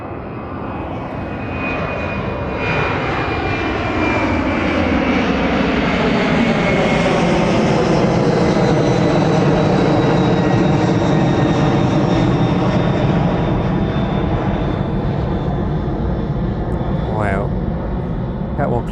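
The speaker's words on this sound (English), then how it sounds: "But that next outbound, the DHL 767." A DHL Boeing 767 cargo jet takes off at East Midlands Airport and climbs steeply away, its engines roaring loudly and steadily with a sweeping, shifting whine as it passes the runway.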